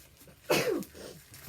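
A single sharp sneeze bursts out close by, a quick explosive onset trailing into a breathy exhale, with faint room noise around it.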